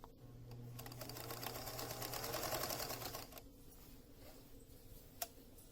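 A sewing machine stitches a bassoon bag with a fast, even ticking whir lasting about three seconds, then stops, leaving quiet room noise and one sharp click.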